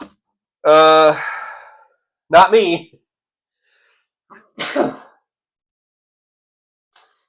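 A single loud, sharp sneeze bursts out nearby, followed by a sigh and short spoken remarks, with quiet pauses between them.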